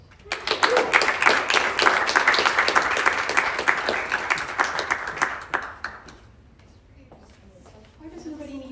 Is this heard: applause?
yes